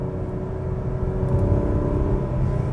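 A 2021 Acura TLX Type S engine drones loudly at sustained high revs in sport mode, a steady, close mechanical whir with a slight swell toward the middle.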